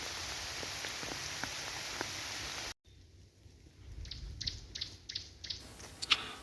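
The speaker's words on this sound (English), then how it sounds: "So there is a lot of rain" Steady rain falls outdoors as a dense, soft patter with scattered drops, then cuts to a quieter stretch with isolated drips and taps.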